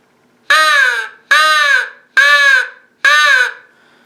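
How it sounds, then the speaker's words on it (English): Four evenly spaced caws from a Primos crow call blown softly, each a harsh, raspy note with a short pause between, close and fairly loud. "The Primos Crow call. So first we're going to start out low."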